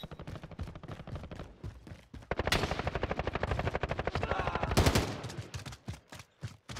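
Rapid gunfire in a multiplayer shooter video game, fast repeated shots that swell into a dense loud volley in the middle and then thin out into scattered bursts. No voices are heard over it.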